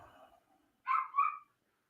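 A pet dog gives two quick, close yelping whimper-barks in a row after a short pause, with no other sound around them.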